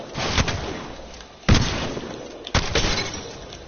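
Three sharp, loud gunshots crack out about a second apart in a video game shootout, each blast leaving a rough decaying tail, with no talking.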